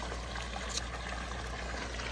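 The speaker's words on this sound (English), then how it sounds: "let's look at the waterfall while I think." A small garden waterfall spilling into a pond, heard as a steady, soft rushing wash of falling water that runs alone throughout at low level with no voices.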